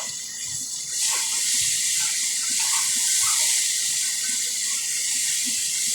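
Water poured steadily into a fried spice mixture in a cooking pan, a continuous hissing splash that starts up after a second and carries on bright and even, with no talk.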